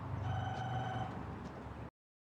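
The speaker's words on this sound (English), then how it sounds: "Oh, one of the phones is ringing." A telephone rings steadily with a warbling electronic tone, fairly loud and close, continuing for about two seconds before cutting off abruptly.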